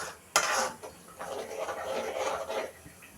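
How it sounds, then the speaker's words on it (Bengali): Spices in oil stirred in a wok-style kadai, a sharp metal clank of spatula on the pan followed by soft scraping and stirring, faint and close. "মশলা কষিয়ে নিচ্ছি।"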